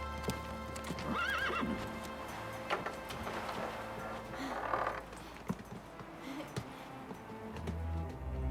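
A horse on the march whinnies, with hooves clip-clopping steadily at close range over a low background rumble, and a few sharp knocks follow.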